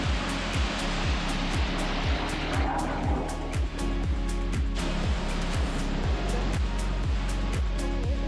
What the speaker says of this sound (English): When we visited this immense waterfall, it was under construction.